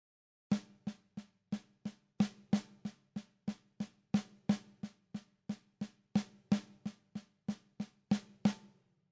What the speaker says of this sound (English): 16th note triplets, and it is a combination of a standard 6-stroke roll and singles